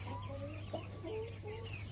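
Pelung chickens cluck softly in a backyard rooster coop, a few short drawn-out calls over a steady low hum, faint and at a distance.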